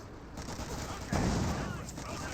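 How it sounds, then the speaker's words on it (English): Dense battle din from the video game Company of Heroes 2, with a roaring flamethrower and crackling gunfire blending into one continuous noisy wash that swells slightly partway through. "Taking some flamethrower fire."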